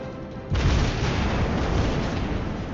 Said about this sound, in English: 2 hits there on the Roma.